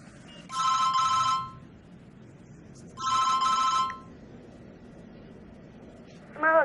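A phone rings indoors in two long electronic trilling bursts a couple of seconds apart, with a third ring just starting at the end, over quiet room ambience.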